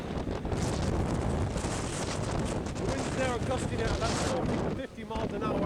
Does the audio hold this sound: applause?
no